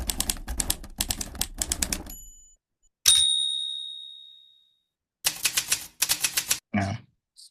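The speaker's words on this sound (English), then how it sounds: "we can maybe add sound effects for this typewriter text animation" Old-school typewriter typing effect: bursts of rapid mechanical key clacks in several runs, a bright carriage-return bell ding ringing out and decaying mid-way, then more clattering keystroke runs, all close and loud with no voices.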